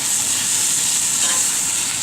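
Burger patty frying in a pan, a continuous soft sizzle with steady hiss, moderately quiet and unbroken, no talk.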